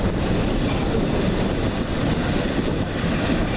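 A Great Western train rolls along the rails with a dense, continuous rumble and roar heard from inside, steady and loud with no breaks.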